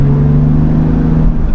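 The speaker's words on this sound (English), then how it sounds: "Now the exhaust on acceleration," A BMW M2 Competition exhaust under acceleration, a loud steady low drone with a sustained tone filling the short stretch, no voices over it.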